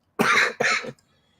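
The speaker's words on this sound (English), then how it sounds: "I'm sorry about my coughing." Two quick, harsh coughs sound close up, one right after the other, followed by near silence.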